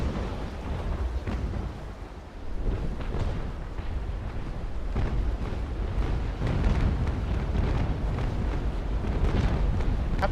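Ship cannon broadsides in the naval combat game Naval Action, heard as dense, continuous rumbling booms and crackling blasts without pauses, loud and with no talking.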